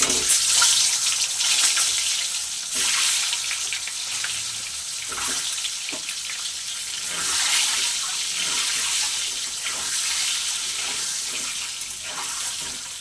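Eggs frying in hot mustard oil with salt and turmeric, a loud continuous hissing sizzle that rises and falls in waves, heard up close with no voices.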